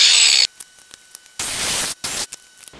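A saw cuts stainless braided hose in a few loud, close rasping strokes of about half a second each, separated by short pauses.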